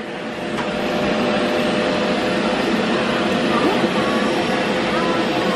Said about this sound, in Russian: Меня очень засасывает сильно этот пылесос. Он этот с водяным фильтром.